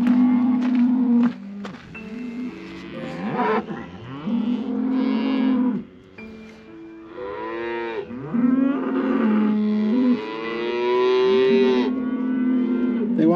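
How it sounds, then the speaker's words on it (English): A herd of curious pasture cows moos loudly and repeatedly at close range, long overlapping calls rising and falling for the whole stretch with no speech. "we passed a curious herd of cows who chased us along their fence line"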